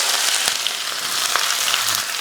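Mustard seeds, curry leaves, onion and two dry red chillies frying in hot oil, a steady close hiss with a few faint crackles throughout, no voices.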